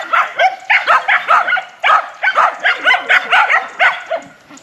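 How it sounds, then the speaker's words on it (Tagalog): Several dogs kept as pets barking repeatedly in quick, loud, close yaps, a rapid string of bursts with brief pauses. "Daming alagang aso ni Nanay."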